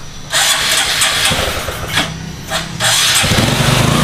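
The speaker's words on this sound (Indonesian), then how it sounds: "Sekarang kita coba nyalakan. Bisa nyala nggak motornya?" A Honda Supra 125 motorcycle engine cranks briefly, then catches and starts, settling into a close, steady running idle.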